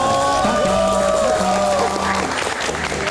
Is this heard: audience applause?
yes